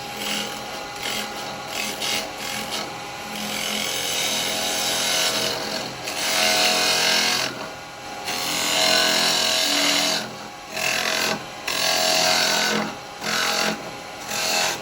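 A carbide chisel cutting into a wooden pot spinning on a lathe while hollowing it out, a loud rough scraping hiss that rises and falls in bursts with short pauses between cuts.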